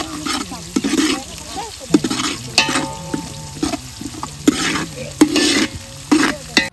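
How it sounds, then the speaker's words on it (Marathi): Onion stirred and frying in a pot for mutton curry, with repeated scraping stirs over a steady sizzle, close and fairly loud, while a voice talks faintly in the background. "कांदा तळून घ्यावा लागतो बाबा"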